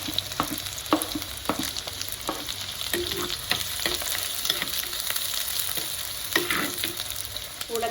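Chopped shallots fry in hot oil with browned garlic for a Kerala-style fish curry, giving a steady close sizzle throughout with occasional clicks and scrapes of stirring, no voices.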